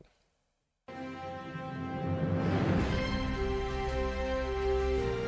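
After a moment of silence, music fades in and builds steadily, a sustained layered tone growing fuller and louder over a few seconds.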